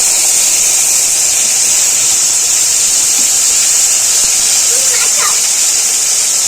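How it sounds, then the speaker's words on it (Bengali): Ground spice paste hits hot oil for a Bengali fish curry, producing a loud, constant sizzling hiss that holds steady throughout, with a brief voice faintly underneath. "ফোড়নটা ভাজা হয়ে গেছে, বাটা মশলাটা দিয়ে দিলাম।"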